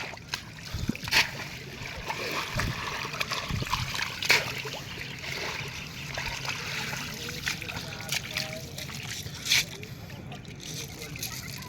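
Freshly caught bata fish flapping in a pot of water beside a lake, with sporadic splashes and sloshing bursts over trickling water while people talk nearby.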